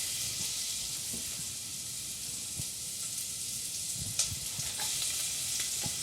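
Potatoes frying in hot, lightly smoking oil in a pan, a steady broad sizzle and crackle running throughout with a few sharper pops near the end, close and moderately loud, no talking.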